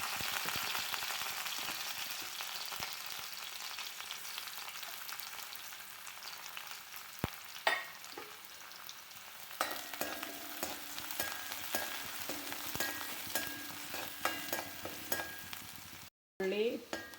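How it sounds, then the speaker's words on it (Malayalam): Curry leaves and onion frying in coconut oil for kovakka mezhukkupuratti, a steady hissing sizzle with occasional stirring clicks and utensil taps, close and continuous. "കറിവേപ്പിലയും ഉള്ളി ഇട്ട് കൊടുത്തിട്ടുണ്ട്."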